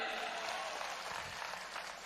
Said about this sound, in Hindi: तालियां इनके लिए, तालियां।